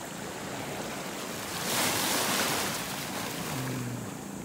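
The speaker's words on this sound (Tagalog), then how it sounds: "Medyo may alon po." Steady wash of sea waves with wind rushing across the microphone, swelling briefly in the middle, heard while out hunting at sea; no voices.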